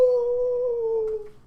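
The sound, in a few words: character Brox's howl imitated by player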